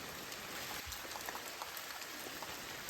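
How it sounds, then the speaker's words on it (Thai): Heavy, steady rain pours down in a continuous close hiss with scattered droplet patter, with no voices over it. "ส่วนเราก็จะรอดูฝนหยุดตกก่อน"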